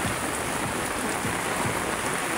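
Heavy rain pours down steadily in Manila with flooding underway, producing a dense, constant wash of noise with no pauses.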